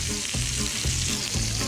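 Sausage searing in a hot pan, a close, continuous sizzle with rhythmic scraping and stirring bursts.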